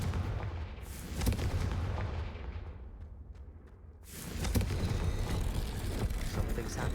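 The Confringo fire spell goes off in the Hogwarts Legacy video game, a booming blast with a deep rumble that decays over a few seconds before a second heavy burst follows, loud and close.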